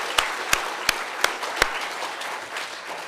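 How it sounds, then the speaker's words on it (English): Audience applause at a Somali-American storytelling event after a poem reading, broken by a few sharp, spaced claps and dying down into a low, steady rustle. "I'd like to do one more round of applause for Muallim"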